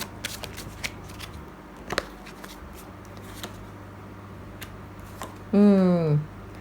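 Tarot cards are shuffled with light riffling clicks and taps, then a short loud whirring riffle near the end, as an extra card is drawn for a reading.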